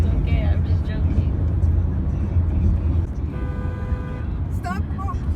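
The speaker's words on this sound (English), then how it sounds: "Stop honking." A car horn honks for about a second inside a road tunnel, sounding over loud, constant traffic rumble while people talk in the vehicle.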